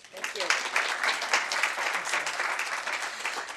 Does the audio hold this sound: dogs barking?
no